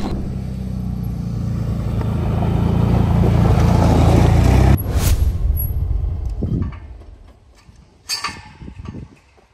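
A CF Moto 450cc quad bike setting off: a loud, close engine rumble that swells for several seconds, then cuts off abruptly, leaving quieter rustling and a few faint knocks.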